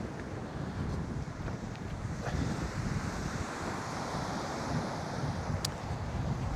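Choppy sea waves at high tide off Howth, Ireland, churn in a steady broadband wash, heavily mixed with buffeting wind noise on the microphone throughout.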